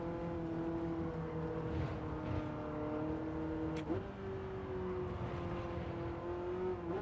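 Car engine in Gran Turismo during a time trial, holding a steady drone through corners with pitch dips and a sharp shift around the middle, then climbing again; loud and continuous with no voices.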